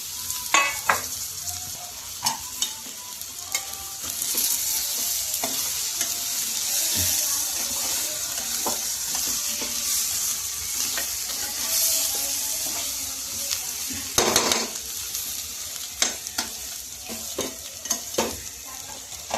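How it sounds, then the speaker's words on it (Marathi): Green chillies fry on low flame without water, a steady soft sizzle throughout, punctuated by scraping stirs and occasional clinks of a utensil against the pan. "मंद आचेवर आपल्याला मिरच्या शिजू द्यायच्या आहेत"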